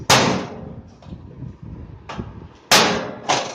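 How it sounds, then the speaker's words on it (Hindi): A hammer drives a nail, held with pliers, into an air cooler grill: four sharp metallic blows at irregular intervals, close and loud, with a quieter clatter between them and no speech. "प्लास की मदद से ये देखिए ऐसे पकड़ लेंगे कस के इसको, और यहाँ रख के चोट मारेंगे इस पे"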